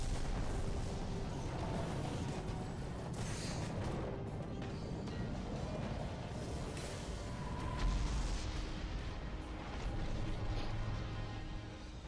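Dense video game gunfire against the boss Crota, with rapid shots and booming blasts running loud and continuous for the whole stretch.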